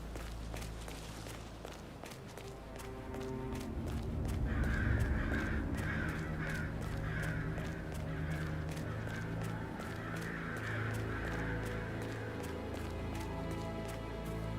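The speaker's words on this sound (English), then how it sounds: "It's the birds. They're making a racket, droppings everywhere." A flock of crows caws in a loud, repeated chorus, harsh calls piling over each other for several seconds, with footstep-like thumps underneath.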